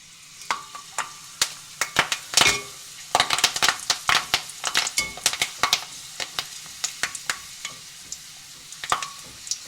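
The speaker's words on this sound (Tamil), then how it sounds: "நான் ஒரு 2 காம்பு கருவேப்பிலை எடுத்து வெட்டி வச்சுருக்கிறேன். இதையும் பொரிச்செடுப்போம்." Curry leaves, two sprigs cut up, frying in oil for a dried-fish sambal, giving a steady sizzle broken by many sharp crackles and pops with a few clinks of a utensil against the pan, close and alone with no talk.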